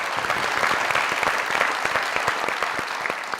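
Steady applause from an audience honoring Pakistani film hero Waheed Murad, a dense patter of many hands clapping at an even, fairly loud level with no voices over it.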